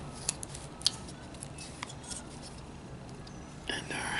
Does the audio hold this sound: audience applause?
no